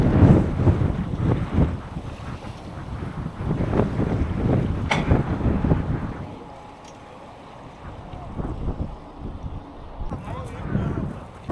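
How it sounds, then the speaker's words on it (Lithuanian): A cyclists' ferry boat arriving on the Nemunas river, heard outdoors under heavy wind buffeting, with a low engine drone and people talking nearby. "Va, atplaukia laivas."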